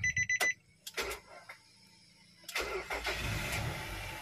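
Turning the key to on in a 2010 Nissan Serena C24 HWS Autech automatic sets off a short run of electronic dashboard chime beeps, followed by a few clicks and then a low engine rumble.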